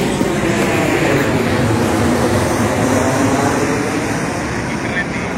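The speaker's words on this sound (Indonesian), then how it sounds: "Jalur pesawat yang dekat karena bandara dekat." A low-flying airplane passes close overhead near an airport, a loud continuous broadband roar that stays steady throughout, with voices faintly mixed underneath.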